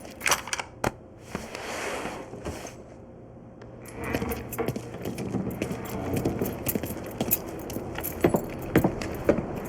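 Car keys jingle and clink in the Mafia video game, bright metallic jangles in short bursts at the start and again through the second half, over a low rumbling car ambience.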